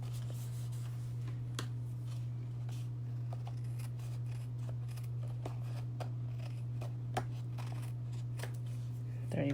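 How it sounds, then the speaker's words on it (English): Paper being cut for a handmade card, with scattered soft snips and rustles over a steady low hum, fairly close and fairly quiet. "this is the part that I'm going to be cutting"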